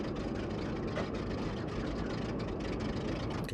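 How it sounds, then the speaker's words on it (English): Shuttle engine in the Amerzone video game, a steady rough droning rumble that runs unbroken and alone, sounding strained and unhealthy. "The engine doesn't sound too healthy, really, does it?"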